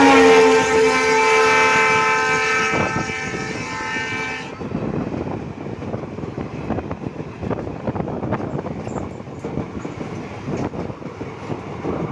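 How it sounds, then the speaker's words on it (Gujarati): A passenger train sounds a long, loud horn, then its wheels clatter in a steady clickety-clack as it pulls slowly away from Jaliya in the rain. "જાળિયાથી ટ્રેન ઉપડી ગઈ છે ધીમે ધીમે"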